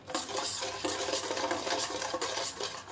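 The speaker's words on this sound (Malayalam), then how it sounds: "തുടർച്ചയായിട്ട് തന്നെ ഇളക്കിക്കൊണ്ടിരിക്കണം കേട്ടോ" Sugar caramelizing in a pan for pink palada is stirred continuously, giving a close, steady scraping and soft clinking of a spoon against the pan with a faint sizzle underneath.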